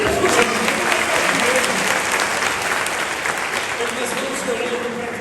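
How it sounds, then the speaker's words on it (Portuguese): A church congregation applauding during a Portuguese-language service, broad, continuous clapping from many people that starts loud and eases off slightly toward the end. "Pode aplaudir, Jesus."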